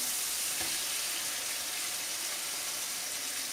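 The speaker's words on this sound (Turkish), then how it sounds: "Bunu da güzelce kavuracağım." Tomato paste sautéing over medium heat in a pan for İzmir köfte, a constant bright hissing sizzle with little variation, close and even, with no voices.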